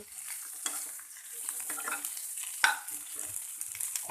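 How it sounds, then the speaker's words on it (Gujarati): Boiled potato pieces stirred in a pan for a farali dosa filling, giving a soft scraping and light sizzle with occasional spoon clicks against the pan, close and fairly quiet, with no talk. "હવે તેમાં આપણે બટેટાને બાફીને તેના ટુકડા કરેલા છે તે નાખી દઈએ અને તેને બરાબર હલાવી લઈએ"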